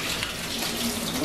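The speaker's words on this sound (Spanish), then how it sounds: "Escurrimos el atún." Liquid drained off canned tuna pours in a steady, close, broadband splash and trickle for a moment, with no talk.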